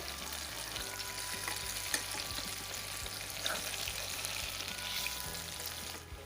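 Fritters fry in a pan of oil while being turned over, a soft, continuous sizzle with light scraping and tapping from the turning, fairly quiet and steady with no talk.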